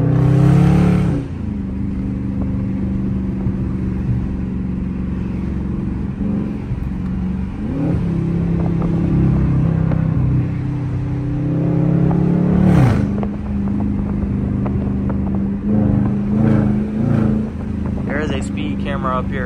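Stock 5.7-liter V8 in a 2019 Dodge Charger R/T, with no mid mufflers or resonators and the cats still on, rumbling steadily from the cabin while driving. A few throttle swells rise and fall, and a voice talks over it.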